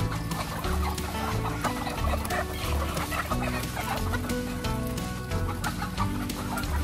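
Laying hens in a new steel cage, many birds clucking and squawking continuously at close range, their calls overlapping with faint rattling of the cage.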